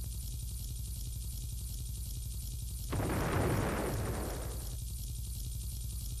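An explosion in the video game Roblox, set amid a World War battle scene, bursts out as a loud noisy blast lasting about two seconds over a constant droning engine-like background hum.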